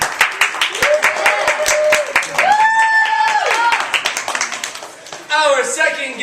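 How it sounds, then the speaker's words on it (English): An audience claps steadily in brisk overlapping claps while a voice calls out over it, the applause fading near the end. "Give a round of applause. Just one."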